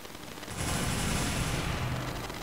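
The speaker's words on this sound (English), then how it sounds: "I can just hear explosions off in the distance." Distant explosions in a Garry's Mod tornado map rumble as a steady, dull roar with low booming undertones, rising after a quiet start and holding at a moderate level.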